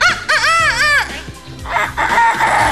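A person imitates a chicken with loud, wavering clucks and a crowing squawk, close to the listener, followed by brief laughter-like noise.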